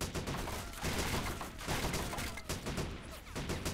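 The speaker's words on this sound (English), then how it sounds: "listen to the 30 cal fire for a second" A .30 cal machine gun mounted on a jeep fires in the Vietnam-era video game Battle of Empires Vietnam, sustained loud bursts of rapid gunfire rattling on and off with short dips between volleys.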